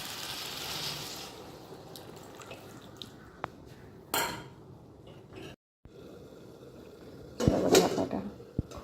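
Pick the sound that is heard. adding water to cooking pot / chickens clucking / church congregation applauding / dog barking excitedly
adding water to cooking pot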